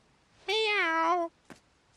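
A cat meows once in the King's Quest video game, a clear, close, drawn-out tonal meow lasting under a second, followed by a short faint click.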